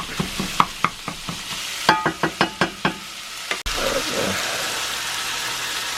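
A run of sharp taps and clinks against a cast iron pan, then a sudden, steady sizzle as 90% lean ground beef hits the hot iron and starts frying.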